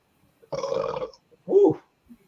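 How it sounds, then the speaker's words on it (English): A loud, close burp from an adult drinking a Carlsberg lager, a single throaty belch standing alone after a brief burst of other noise. "The burp heard round the world."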